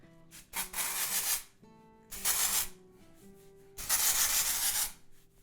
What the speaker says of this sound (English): We're gonna spray this on. It's gonna fix my hair, alright?